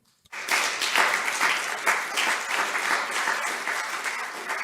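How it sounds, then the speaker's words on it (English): An audience breaks into sustained applause for speakers on stage after a panel discussion at a cultural property protection conference, steady and dense clapping that starts abruptly and holds at full strength throughout. "please give them a round of applause"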